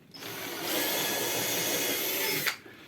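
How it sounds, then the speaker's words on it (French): A power drill bores 3 mm holes in a Candy washing machine drum, one continuous high whine lasting about two seconds, close and loud, ending abruptly. "Je vais percer plein de trous. Alors c'est des trous de 3."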